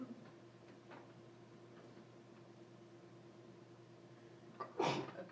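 A single sharp sneeze bursts out near the end, following several seconds of quiet room hum with faint ticking.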